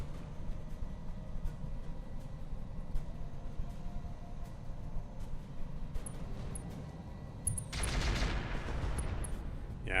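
Mortar and gunfire from a Roguetech BattleTech mech battle: a steady low rumble of distant explosions and firing, with a louder, denser burst of impacts toward the end.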